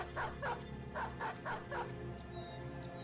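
A dog barks in the video game Battle Brothers, giving five or six quick, fairly close barks in an uneven rhythm over steady background ambience. No voices are heard.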